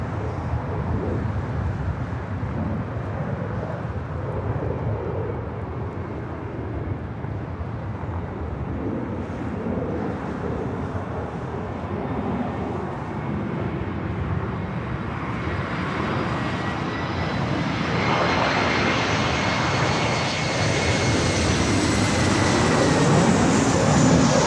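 A fixed-wing airliner lands at LAX, its engine roar steady and broad, then swelling louder and higher as it passes close in front on touchdown, alone without talk.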